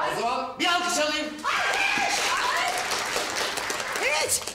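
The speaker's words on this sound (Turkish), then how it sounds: "O zaman bir alkış alayım" Applause and cheering from a crowd in a Turkish TV drama scene, continuous clapping mixed with voices and whoops, fairly loud throughout.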